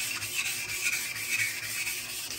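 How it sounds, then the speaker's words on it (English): A knife is sharpened on a 1000 grit Pride Abrasive stone in a Buck Honemaster guide, giving faint, even rasping strokes that repeat in a regular back-and-forth rhythm. "So this is the 1000 grit Pride Abrasive stone."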